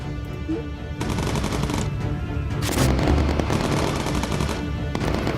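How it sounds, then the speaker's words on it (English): Bomber gunners in the video game Bomber Crew fire machine guns in rapid sustained bursts, a loud dense rattle with booming impacts that swells in the middle and carries on to the end. "I'm going to hit all my gunners to go into focus mode, so they can fire a bit more effectively"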